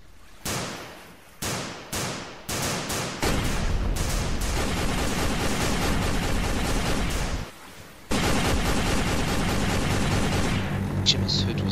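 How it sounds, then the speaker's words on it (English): Naval gunfire from British battleships opening fire, several sharp heavy blasts in quick succession, then a dense continuous rumble of firing with a brief gap before another burst. "When Hood and Prince of Wales found the Germans, they opened fire."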